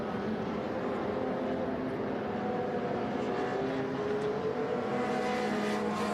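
Race cars at the Austin SpeedTour driving through the esses, a continuous loud engine drone with several cars at once, heard from trackside without breaks.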